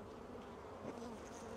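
Honeybees buzz steadily at an open hive being inspected before winter, a dense, low, continuous hum with no talk over it.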